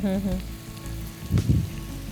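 Spices being sautéed over raised heat in a pan for spicy dum aloo, with a close steady sizzle, a short tonal sound at the start and a louder burst of stirring midway.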